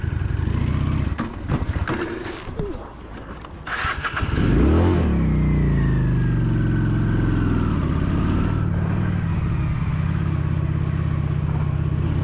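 A motorcycle engine fires up on a road after stalling, with irregular sputters and a revving burst before settling into a steady, loud drone as the bike rides off.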